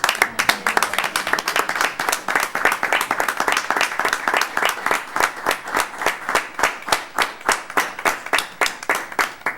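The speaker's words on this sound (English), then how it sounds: "I think I ought to give one more round of applause." A meeting audience at a town Board of Selectmen session gives a round of applause, a steady run of many hands clapping, fairly close and loud, rhythmic and continuous, with no talk over it.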